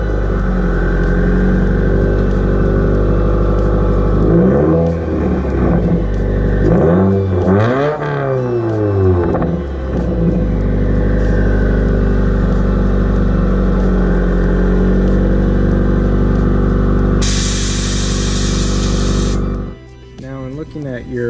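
Exhaust of a 2017 Subaru WRX fitted with a J-pipe, a steady loud rumbling idle with a few swelling revs in the first half, continuous and alone with no talking.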